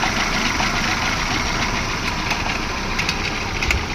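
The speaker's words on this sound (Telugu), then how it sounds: "ఇంజన్ కండిషన్ చూడండి. చాలా స్మూత్గా ఉంది ఇంజన్ కండిషన్ అయితే." A 2012 Hyundai i10 with an LPG and petrol setup idles steadily, its engine giving a continuous, even rumble with a faint mechanical ticking, heard up close and alone.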